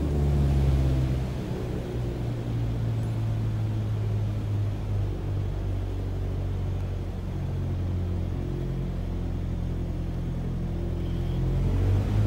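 A propeller aircraft engine in Microsoft Flight Simulator throttles back to about 2300 RPM, producing a steady, close low droning hum with faint harmonic tones and no voices.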